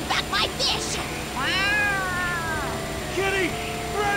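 A cat meows in the video game Yakuza: Like A Dragon, with a few drawn-out, rising and falling cries close by amid game sounds and voices.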